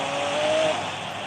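Nissan race car engine in Real Racing 3 roaring loud and steady for a brief moment, with a thin whine riding on top.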